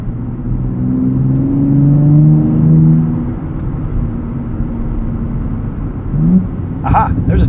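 A 2024 Nissan Z NISMO in Sport Plus mode at night, its engine droning steadily under acceleration from inside the cabin, the pitch sliding as the automatic transmission downshifts, with a brief rise near the end.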